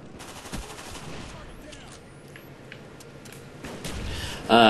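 Call of Duty gunfire on the Nuketown map, bursts of rapid shots over a steady layer of game sound effects, with a louder surge of firing near the end.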